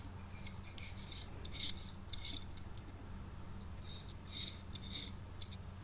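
Potatoes are peeled by hand in a kitchen, with short crisp scraping strokes coming in small irregular clusters. The strokes are faint and close over a quiet low room hum, and no one speaks.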